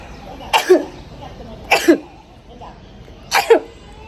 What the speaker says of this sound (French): Je t'ai éternué, attention.